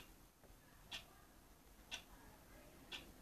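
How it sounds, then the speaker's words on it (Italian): Faint, crisp ticks from the SCP-902 box in Minecraft repeat at an even one-second pace, three of them over near silence. "Tanto si sente ancora il ticchettio."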